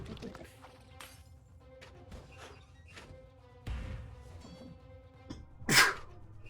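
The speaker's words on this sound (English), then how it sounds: "Pardon the sneeze." A single sharp sneeze near the end bursts out above a quiet background of soft music and clicks from the game Kingdom Rush Vengeance.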